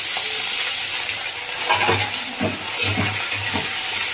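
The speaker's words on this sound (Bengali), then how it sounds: "আলুকে একটু ভাজা ভাজা করবো বন্ধুরা" Potatoes sizzle steadily in a hot pan while being stirred, the constant frying hiss punctuated by repeated scraping strokes of the spoon in an uneven rhythm, close up and with no speech.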